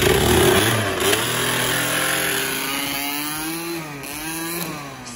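A small Gilera Runner scooter engine revs loudly nearby, its whiny pitch rising and falling in several throttle bursts.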